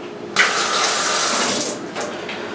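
A kitchen faucet turns on and water gushes steadily into the sink to rinse a hand, running close and loud for about a second and a half before easing off.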